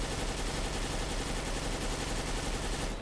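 Galil assault rifle fires a sustained, dense burst of automatic gunfire in a video game, loud and continuous for about three seconds, then cutting off abruptly at the end.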